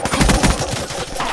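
Automatic gunfire in Call of Duty: Black Ops III multiplayer beta, a loud, close burst of rapid shots fired in quick succession.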